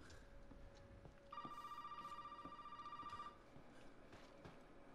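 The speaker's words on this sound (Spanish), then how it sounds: "¿Dónde estaba el puto teléfono aquí?" A telephone rings in the Resident Evil 7 video game, a steady electronic ring lasting about two seconds at moderate volume over quiet ambient game sound, with faint clicks and footsteps around it.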